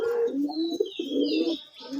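Close, low cooing from a male sky-blue Raj Golla pigeon in two rolling bursts, with soft higher chirps in the background.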